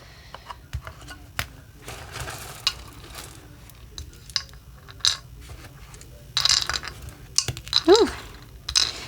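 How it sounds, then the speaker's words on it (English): Stones shuffle by hand during a card-reading session: scattered clicks and clattering knocks, sparse at first and then denser bursts, close and moderately loud. "Just shuffle the stones."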